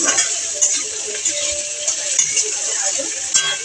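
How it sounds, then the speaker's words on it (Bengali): Thinly sliced bitter gourd frying in a pan, with a continuous hiss of sizzling oil and occasional scrapes and clinks from stirring, close up and with no talking. "এই যে সরু সরু করে উচ্ছে ভাজাটা বসিয়ে দিয়েছি"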